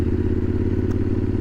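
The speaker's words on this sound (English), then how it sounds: "that motor sounds absolutely glorious" Yamaha Super Ténéré 1200 motorcycle engine running steadily up close, a loud continuous low throb with a fast even pulse and no other sounds.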